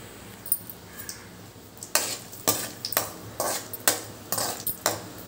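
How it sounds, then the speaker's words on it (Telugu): Cashew nuts frying in a large kadai for vegetable fried rice, a low sizzle broken by repeated loud scraping and clinking of a metal spoon stirring, with the strokes growing busier partway through; no talking. "ఇప్పుడు దీంట్లో ముందుగా జీడిపప్పు వేసి వేయించుకోవాలి."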